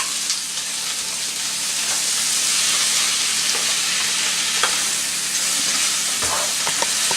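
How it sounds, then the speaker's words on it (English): Cabbage, orange and green peppers and turkey sausage sizzle steadily in a hot pan while being stirred, with a constant loud frying hiss and a few scraping clicks near the end. "I'm going to stir this around"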